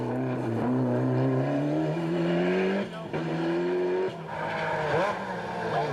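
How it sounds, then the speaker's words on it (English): A rally car driven hard on the Basket Hill stage of the 1994 Circuit of Ireland Rally, its engine screaming at high revs with rising pitch through gear changes, close and loud without a break. "We can see just how hard the 2FM car is going when Frank catches John Price at the end of the Basket Hill stage"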